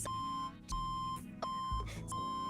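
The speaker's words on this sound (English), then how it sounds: "What was that beeping?" Electronic beeping inside the video game Black Beacon, a steady tone repeating in short pulses over a low musical drone, clear and fairly loud with no talking.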